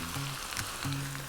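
A tadka, the tempering for instant poha idli, sizzles steadily and close in a hot pan, with brief low tonal hums under the frying.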